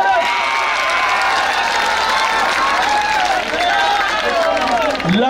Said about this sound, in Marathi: टाळ्या वाजवा मोठ्याने।